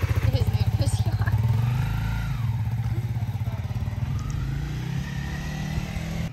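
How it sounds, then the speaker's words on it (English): Brand new Honda CRF300L motorcycle pulling away, its engine putting out a steady pulsing idle and a rising rev that fades slightly as the bike moves off, with voices nearby. "We got the brand new 300L out here today."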